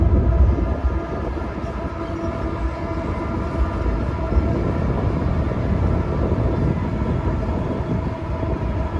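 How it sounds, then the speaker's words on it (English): An eastbound BNSF freight train pulls out of Barstow Yard, a steady heavy diesel rumble with low droning engine tones that hold constant and fairly loud for the whole stretch. "An eastbound BNSF train departs Barstow Yard."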